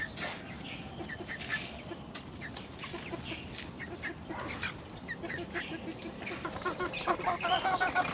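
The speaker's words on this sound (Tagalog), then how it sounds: "Ipapakain natin dito sa ating" Backyard chickens and ducks cluck and chatter as they are fed a mix of rice and vegetables, a busy, fairly faint flock with scattered calls growing somewhat livelier toward the end.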